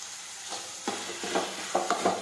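Spices and chutney sautéing in oil for a homestyle fenugreek (methi) curry, a low sizzle under several short scraping stirs that pick up toward the end, close and without any voices.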